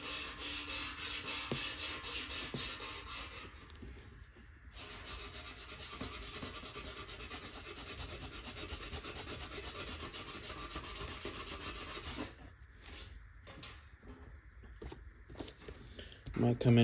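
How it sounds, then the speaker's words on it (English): Sanding belt rubbing corrosion off a Conn 6D saxophone's brass body, a continuous raspy scraping at close range with a short pause, then choppier strokes near the end. "Just kind of sanding away some of this corrosion."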